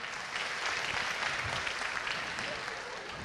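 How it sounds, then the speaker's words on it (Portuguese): Applause from a church audience at a Christmas event, a steady wash of clapping hands filling the room for a few seconds, with no talk over it. "uma salva de palmas para ela"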